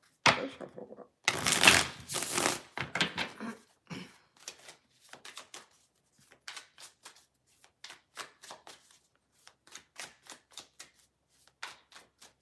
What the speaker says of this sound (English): This deck does shuffle well.